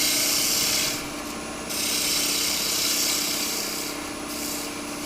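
A steady, close scraping hiss of a tool skimming wood off a turned peg doll head on a lathe, continuous for the whole stretch with slight swells in loudness.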